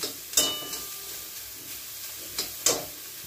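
Prawns frying in a pan, a faint steady sizzle broken by a few sharp hissing spits and crackles at irregular moments.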